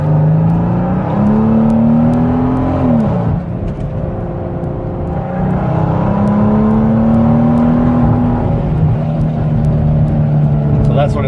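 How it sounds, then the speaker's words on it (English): A car engine at full throttle on a run to about 85 mph, fuelled with an 85 and 93 mix, droning loud and steady, rising in pitch through two long pulls with a brief dip between gear changes. "So that's what it sounds like, full throttle."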